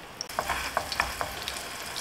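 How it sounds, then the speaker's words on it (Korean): A hamburger patty pan-fries with a steady, close sizzle and scattered small pops and crackles. No one speaks. "들어갈 때 이렇게 지글지글 소리가 나도록 구워주셔야 되며"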